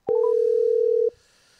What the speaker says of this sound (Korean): 자 대구 조명자님 전화 드립니다